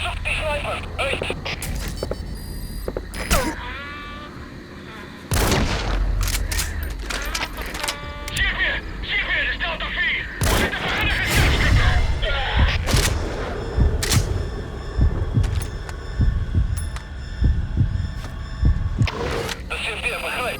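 Gunfire in Metal Gear Solid V: The Phantom Pain comes in sharp, scattered bursts and single cracks among booms and thuds, mixed with radio-style voices talking over the action.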